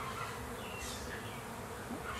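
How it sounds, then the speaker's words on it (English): Honey bees buzzing in a continuous, dense hum, close and steady throughout with no voices. "I was not expecting this bumper crop of baby bees to be born all in one day."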